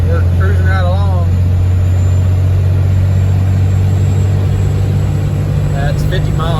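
A Cummins diesel Ford F350 towing cattle and hay holds a steady, loud low drone while cruising around 2,600 RPM, heard from inside the cab, with a brief faint voice over it.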